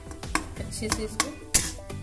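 Samosa filling paste is mixed in a bowl with a spoon, giving soft scraping and a series of light clinks and taps, quiet and close.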